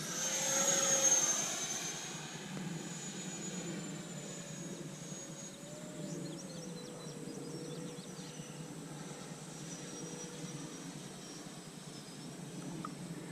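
A Freewing F-14 Tomcat V2 RC jet with twin 64mm ducted fans flies overhead, its continuous whining turbine-like roar louder at first, then holding steady with a slowly shifting pitch at moderate distance, no voices.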